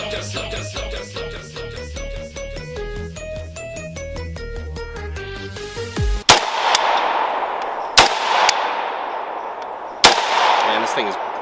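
An RPK-74 light machine gun fires three separate loud single shots, each with a sharp crack and a long reverberant tail, spaced about two seconds apart after a stretch of melodic music.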